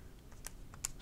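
A calculator keypad gets a few quick, light taps, soft and close with no voices.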